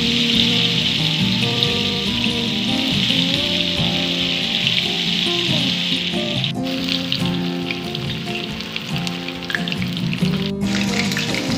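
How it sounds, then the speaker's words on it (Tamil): Chicken pieces for restaurant-style chilli chicken fry in hot oil a few at a time, giving a steady, loud, dense sizzle like heavy rain that runs the whole time, with faint kitchen clinks over it. "ஒவ்வொரு பீசஸாக போட்டு நம்ம கொஞ்சம் கொஞ்சமாக ஃப்ரை பண்ணி எடுத்துக்கோங்க"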